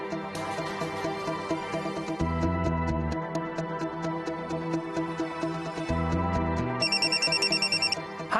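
An unanswered telephone repeatedly rings with an electronic ringtone: bright repeating tones and a pulsing melodic pattern with short gaps, loud and close, with no talk over it.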